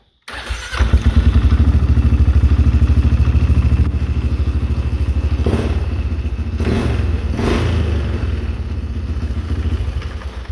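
A 2012 Polaris Sportsman 550 EPS ATV engine with a suspected faulty voltage regulator rectifier starts and idles loudly and steadily up close, with a few brief surges in the middle, and keeps running to the end without an audible shutdown.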